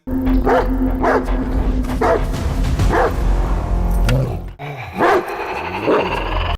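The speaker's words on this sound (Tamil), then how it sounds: "அந்த இடத்துல ஒரு வெறி நாய் நம்ம உன்னி முக்குந்தனை பயங்கரமா துரத்தும்" A rabid dog chasing a man in a Telugu film scene barks loudly about once a second, a string of sharp, close barks over a busy background soundtrack.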